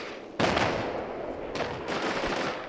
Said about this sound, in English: He managed to get a shot off from his bazooka.